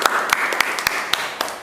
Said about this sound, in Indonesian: Tepuk tangan untuk Renpi.